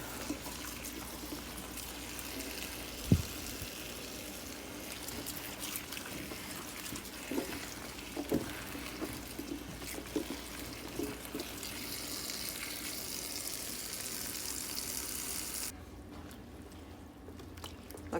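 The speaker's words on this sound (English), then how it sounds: "I'm just going to fill this full of water." Water runs steadily from a tap into a box-sized container, a soft continuous pour with a few clunks and splashes, stopping near the end; quiet and close, with no talk.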